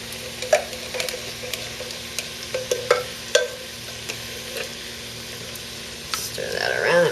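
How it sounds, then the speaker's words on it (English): Coconut milk from a can being stirred in a pot, with a spoon scraping and clinking in irregular strokes, close and fairly quiet, no talking. "Stir that around and mix it up."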